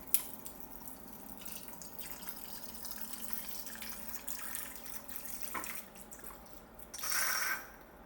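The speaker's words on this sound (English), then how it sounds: "You can hit a pump, pumping some water into the inside of the machine, and then it starts to brew." A Keurig Drinkworks Home Bar pumps water into the machine and starts brewing, a quiet steady trickle and hum with light drips, ending in a louder gush of flowing liquid, no voices.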